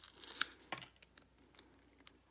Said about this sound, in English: I'm also going to use a piece of washi tape